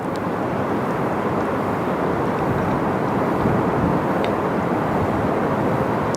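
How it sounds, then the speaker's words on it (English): A Boeing 747-8 from Honolulu passes overhead near Sydney Airport, a loud, steady, broadband jet roar that holds strong throughout with no talking. "The beautiful 747-8 about to fly over, coming in from Honolulu this afternoon, originating in Louisville."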